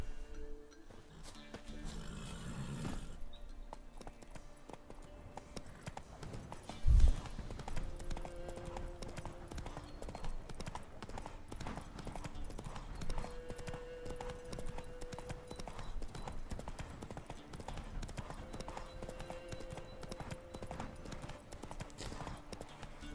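Galloping horse hooves from The Witcher 3 video game, a steady fast clip-clop running throughout with one heavier thump partway through, over a low game backdrop.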